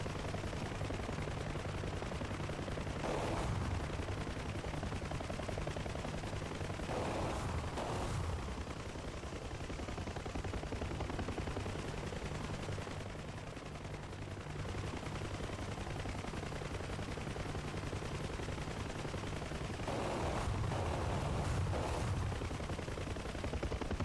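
Aircraft guns fire in War Thunder, a dense, steady rattle of rapid shots running almost continuously under engine drone, with brief louder bursts standing out.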